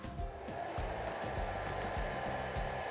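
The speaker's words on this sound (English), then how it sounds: "I'm going to turn on the hairdryer" A hair dryer blows air in a steady, loud whoosh with a continuous motor hum, running unbroken through the whole stretch during a classroom science demonstration, with no talking over it.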